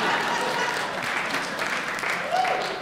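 Audience applause at a stand-up comedy show, a dense burst of clapping and cheering from a packed room that stays loud throughout the short stretch, with a whoop near the end.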